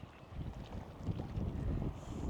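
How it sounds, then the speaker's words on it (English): Strong gusty wind buffets the microphone at Lake San Cristobal, a soft rushing roar that swells and builds over a couple of seconds. "It is very windy."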